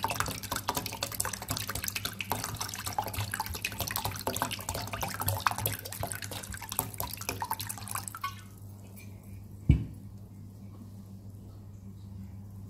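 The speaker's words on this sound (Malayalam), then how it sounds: "ഇതിലേക്ക് നമ്മൾ കുറച്ച് തണുത്ത വെള്ളം ഒഴിച്ചു കൊടുക്കാം." Cold water pours steadily into a honey, ginger, mint and lime drink for about eight seconds, a continuous splashing rush that then stops, leaving a quiet room with one sharp knock near the end.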